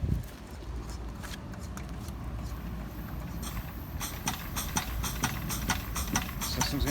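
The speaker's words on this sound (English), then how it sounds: "So we're going to turn the system on." A high-volume resin dispense pump system starting up and running, giving a steady, loud mechanical drone with a rapid pulsing clatter that grows more pronounced after a few seconds, with no speech over it.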